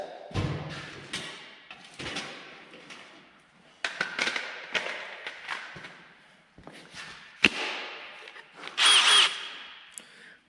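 A DeWalt power drill whirs in repeated short bursts, close by, drilling into a Ski-Doo Elan 250 twin snowmobile part, with clanks and thuds between runs and a louder high whine near the end.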